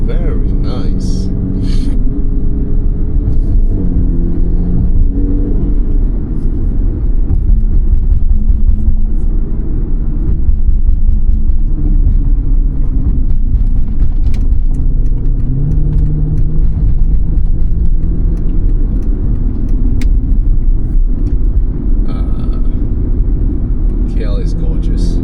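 A car drives along a road, a continuous low engine and road rumble from inside the cabin, with someone talking over it at intervals and small bumps and clicks.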